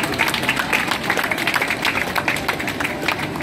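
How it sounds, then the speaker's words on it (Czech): An audience claps at a Miss Czech Republic semifinal swimsuit promenade at Aquapalace Praha in Čestlice, giving steady, moderately loud applause throughout. "potlesk"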